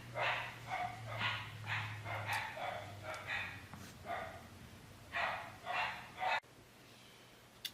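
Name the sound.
dogs barking in the background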